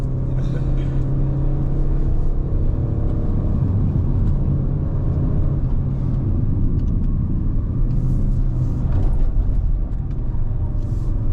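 A Peugeot 3008 climbs the winding Genting road with a continuous low engine drone and road rumble heard from inside the cabin. Occasional voices are faint beneath it.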